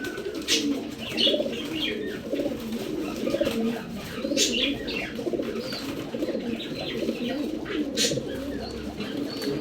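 Tournament pigeons coo continuously at close range, layered low throaty calls with occasional brighter chirps over a steady background hum.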